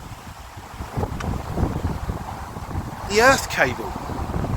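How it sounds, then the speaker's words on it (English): Outdoor wind gusts buffet the microphone with a steady rumbling roar while drones are flown, rising at moments, and someone talks over it throughout. "Goodness me, the wind has picked up."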